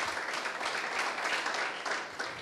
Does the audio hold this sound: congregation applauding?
yes